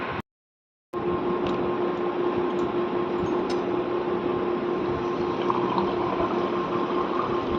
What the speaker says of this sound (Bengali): ফার্স্টে সোডা ওয়াটারটা দিয়ে দিলাম